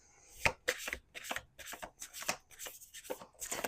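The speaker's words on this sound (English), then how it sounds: "Okay, one more shuffle." Oracle cards being shuffled, quick riffling bursts in an irregular rhythm, close and fairly quiet, with no talking.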